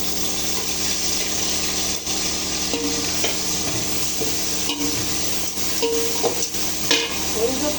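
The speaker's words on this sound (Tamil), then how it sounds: "பாருங்கள், இஞ்சி பூண்டு போடுறேன்." Ginger and garlic sizzle with softened onions in a pan, a steady close frying hiss with occasional stirring scrapes and clinks throughout.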